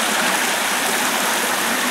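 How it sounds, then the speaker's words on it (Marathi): A babbling stream in a forest conservation park gives a loud, steady, continuous rush of water that fills the whole stretch, with no talk. "पाण्याचा खळखळाट"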